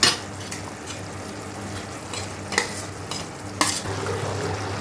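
Paneer going into a sizzling chilli gravy in a pan: loud continuous frying hiss with several sharp spoon scrapes and clatters against the pan, no speech.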